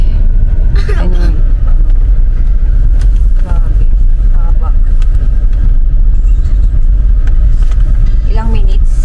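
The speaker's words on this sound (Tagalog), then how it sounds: "Traffic." Steady road traffic rumbles low and constant throughout, with people talking over it close by.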